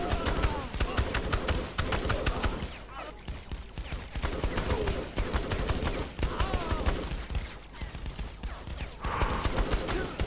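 Gunfire in Saints Row the Third, rapid repeated shots and automatic bursts at close range, broken by brief pauses, under a busy game soundscape with occasional voices.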